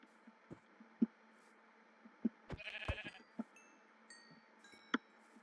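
A few faint sheep bleats in a block-building video game sound over quiet background sounds and scattered soft thuds, with a brief louder burst midway.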